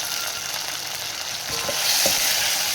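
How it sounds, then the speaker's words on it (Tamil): Tomatoes and onions sautéing in oil for vegetable biryani, a steady close sizzle with stirring scrapes growing slightly louder partway through, no talking. "தக்காளி சேர்த்து நல்லா வதக்குங்க."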